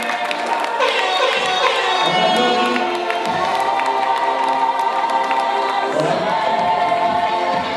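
A crowd at a Bamiléké cultural day gathering in Rome cheers and applauds a family, with loud mixed shouts, voices and clapping blending into a continuous roar.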